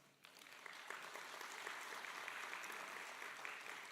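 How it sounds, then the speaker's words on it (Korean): Applause for election candidates at a Korean political party gathering, a crowd clapping that swells in quickly and continues evenly, heard from a distance at fairly low level. "따뜻한 격려의 박수를 보내드립니다"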